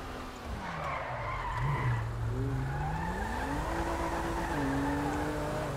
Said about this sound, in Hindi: भाई गाड़ी तो मस्त साउंड कर रहा है भाई